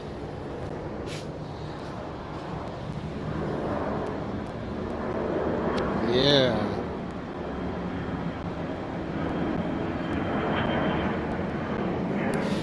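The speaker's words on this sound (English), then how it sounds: "Oh, check out this plane coming." An airplane passes overhead as a broad, steady engine roar that swells to a peak midway and then holds, with a brief spoken word near the start.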